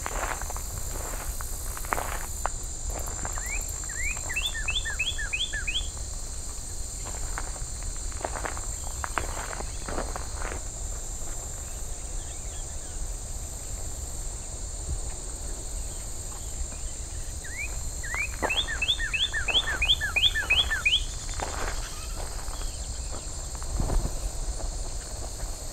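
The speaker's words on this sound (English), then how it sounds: "It's a male cardinal here." Male northern cardinal singing on a summer rail trail in Ontario, two bursts of clear repeated downslurred whistles, moderately near, over a steady background chorus of crickets and insects.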